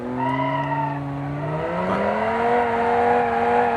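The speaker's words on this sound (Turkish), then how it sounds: "Biz bunu 8 litre V11 motorla değiştirdiğimiz zaman arabanın alacağı hale bakın." Engine of a car fitted with an 8-litre V11 in the BeamNG.drive driving game, a steady droning tone whose pitch climbs smoothly as it accelerates, with one brief dip like a gear change, heard alone without talk.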